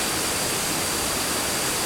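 Kuang Si waterfall in a national park near Luang Prabang, Laos, roars as a constant, loud, broadband rush of falling water, close and unbroken, with no voices.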